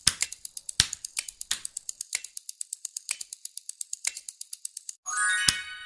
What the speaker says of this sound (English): It was a light switch being flipped.